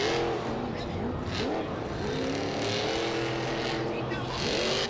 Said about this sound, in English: you hear that strong sound of those Team Scream trucks